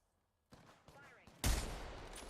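Shots fired in Apex Legends, a short sharp burst of gunfire that breaks in loudly near the end after quieter game sounds and brief voice-like bits.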